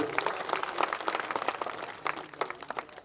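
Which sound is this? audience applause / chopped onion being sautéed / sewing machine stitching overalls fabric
audience applause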